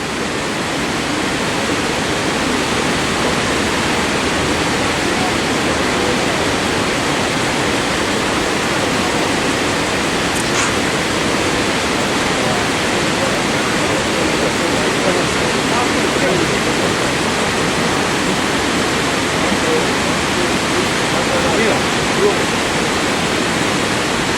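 Steady, loud roar of Iguazu Falls with broad rushing water noise that holds constant throughout, with no breaks or other sounds standing out.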